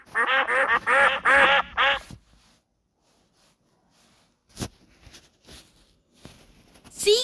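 A few loud duck quacks in a quick burst, then near silence broken by faint scattered clicks and a short sharp call at the end.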